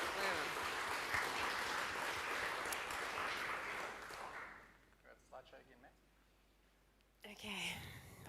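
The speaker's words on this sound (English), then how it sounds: "Let's have a huge round of applause for our Shot in the Dark judges" Audience applause for the judges of a Shot in the Dark coffee competition during Coffee Creative Week, steady and full for about four seconds, then fading to scattered claps and quiet before a voice resumes.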